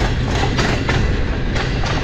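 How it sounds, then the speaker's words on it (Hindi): The Kohat Express train in Pakistan runs on rails with a steady, dense rumble and faint periodic clacks, heard nearby and continuous without talk. "कोहाट एक्सप्रेस है ये।"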